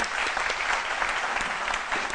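Audience applause greeting a female guest on a French-language talk show, a dense, steady wash of many hands clapping at close range, continuous and evenly loud with no voices over it.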